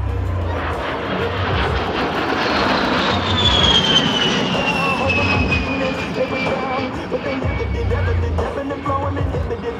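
An A-10 Thunderbolt II 'Warthog' jet performing a slow roll at the Portland International Airshow gives a loud, steady engine roar with a rising whine, while an announcer speaks over it.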